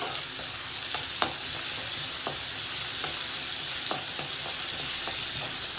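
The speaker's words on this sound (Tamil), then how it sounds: "நல்லா இஞ்சி பூண்டு கொஞ்சம் வதங்கணும்" Ginger and garlic sauté in an oil-filled pan for a mutton masala gravy, giving a steady, close sizzle throughout with occasional light scrapes and taps of a spoon against the pan.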